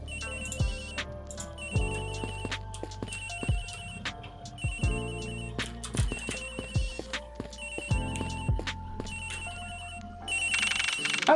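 In the Ace Attorney video game, a phone rings again and again in regular bursts over game music with recurring percussive hits, growing louder near the end.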